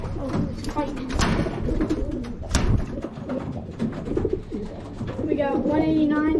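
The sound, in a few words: pigeons cooing in a loft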